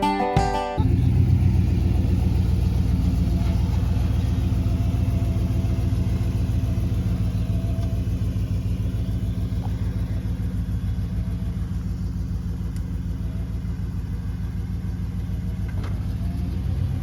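A vehicle nicknamed Termite, a truck awaiting a Hemi swap, rumbles steadily from inside the cab while driving, with a constant low engine drone and road noise that holds at an even level throughout.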